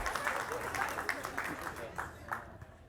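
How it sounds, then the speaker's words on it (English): An audience at a college all-staff day applauds, scattered claps of moderate loudness mixed with murmuring voices, tapering off toward the end. "Round of applause, round of applause."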